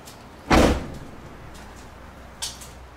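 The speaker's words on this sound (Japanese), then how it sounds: "バックドアを閉めてみます。" The rear back door of a Nissan Serena swings shut with one loud, close slam, followed by a fainter knock about two seconds later against a quiet background.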